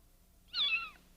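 A cat gives one clear, close meow of medium loudness, short and rising then falling, against a quiet room.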